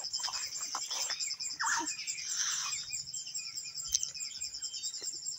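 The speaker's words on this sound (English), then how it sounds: "Listen to those birds." Birds chirp and call outdoors in a field, with several quick, bright tweets and trills near and far over a faint steady insect-like hum, with no speech.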